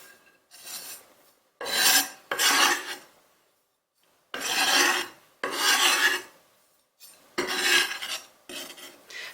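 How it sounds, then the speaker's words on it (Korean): A knife blade scrapes chives across a cutting board in several short, rasping strokes separated by pauses, close and fairly loud. "칼날 이용하셔가지고 이런 식으로 부추를 옮겨줍니다."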